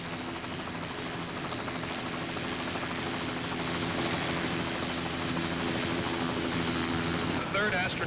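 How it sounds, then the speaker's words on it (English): Recovery helicopter carrying the Apollo 11 astronauts back to the USS Hornet after splashdown, 1969: a steady, loud rotor and engine drone with a whining tone that holds throughout, with no talk over it. "the helicopter is going to come back to the ship now"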